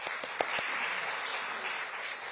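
An audience at a book-launch event for a National Assembly member claps steadily, with a few sharp individual claps standing out near the start before the applause settles into a continuous patter.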